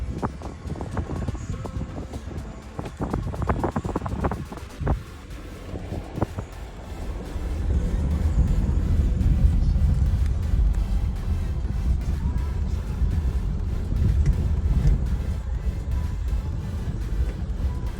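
Engine of an open-top Jeep revving and accelerating on an overlanding forest trail, a loud sustained low rumble with wind buffeting and some clatter, swelling midway and staying strong.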